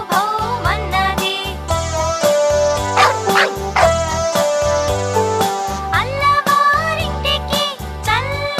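A Telugu children's song has a rhythmic, upbeat tune with dog-like 'bow bow' barks woven into the melody, likely voiced or played as part of the music. The barks are loud and repeat throughout.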